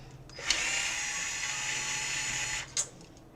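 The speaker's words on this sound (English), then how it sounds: "Let's take the black screws out." A small electric screwdriver whirs steadily for about two seconds, backing out black screws from an Xbox 360 Slim console, with faint clicks at the start and end, close and quiet.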